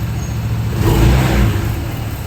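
A Honda PCX 160 scooter engine runs at a steady idle close by, a loud continuous hum that swells slightly in the middle with no talking.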